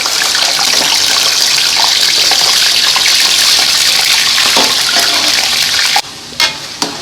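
Pieces of washed, patted-dry chicken sizzle loudly in hot oil in a karahi, a steady dense hiss that runs for about six seconds before quieting to a few fading crackles and pops.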